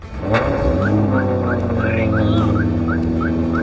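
A car engine starts at a car meet with a sharp catch and settles into a loud, steady idle, while a series of short, evenly spaced chirps repeats over it.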